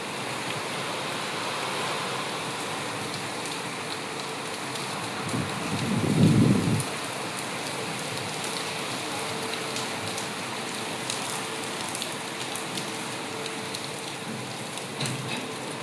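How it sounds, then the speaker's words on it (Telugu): Heavy rain pours in a steady, dense roar that holds evenly throughout, with a brief louder gust of noise in the middle. "వర్షం అయితే, అసలు జోరుగా పడుతుంది."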